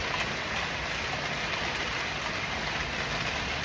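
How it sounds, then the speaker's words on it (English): Heavy rain pours down in a backyard, a steady, dense wash of hiss that stays constant and fairly loud throughout, with no voices. "It's like raining so hard."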